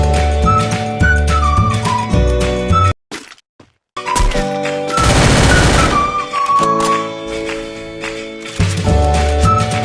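Gunfire in the Free Fire video game, with bursts of shots, thuds and whistling tones over game music, broken by a short silent gap and a loud rushing burst in the middle.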